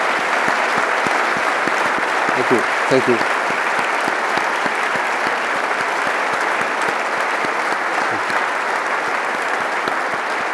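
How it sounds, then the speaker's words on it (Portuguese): Sustained, dense applause from an audience at a public presentation for a foundation, steady and loud throughout, with someone briefly saying thanks over it. "eu gostaria de dessemos todos um aplauso aos nossos curadores"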